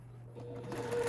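A sewing machine stitches quilt pieces for a coneflower block, a steady close mechanical hum that speeds up into a brighter, faster whir toward the end.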